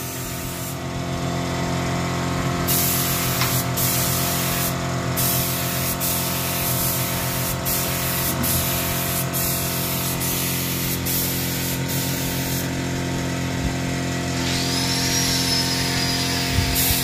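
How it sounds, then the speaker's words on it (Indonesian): Spray painting a speaker grille for an Ambyar 210 speaker box, heard as a loud, steady hissing spray with short pauses, close up over a constant background hum. "Ini grillnya juga sudah kita semprot."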